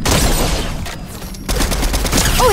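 Loud, close bursts of rapid gunfire in a Fortnite match, a dense volley that dips briefly around the middle before resuming at full intensity.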